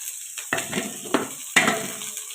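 Mustard seeds, curry leaves, carrot, beetroot and cabbage fry in oil in a pan, with a constant close sizzle and a few sharp scraping stirs and clinks of a utensil against the pan.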